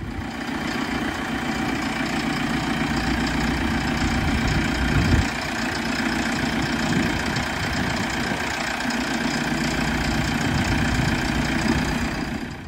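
A JCB 3CX backhoe loader's engine idles steadily close by, a loud continuous low rumble with a slight mechanical knock that holds for the whole stretch, with no voices over it.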